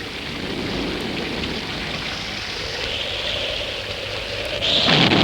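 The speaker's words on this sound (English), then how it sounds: "In this case, rain." Steady rain pours down in a broad, continuous hiss that swells louder near the end, the downpour that halts a cameraman's outdoor filming in a 1952 French documentary about early filmmaking.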